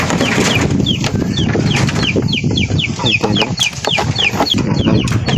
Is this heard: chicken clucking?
yes